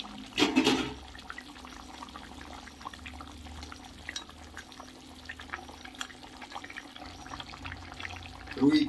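Koi fish (climbing perch) dropped into a boiling red curry sauce give a brief splash and sizzle near the start, followed by a steady low bubbling and simmer that swells again at the end.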